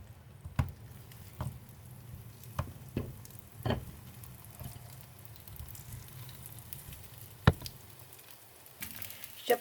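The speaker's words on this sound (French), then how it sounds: "Je continue à rajouter un peu de l'huile pour faire frire le reste des galettes" Crispy rice cakes fry in shallow oil, giving a steady, close sizzle broken by scattered sharp pops and crackles, with no voices.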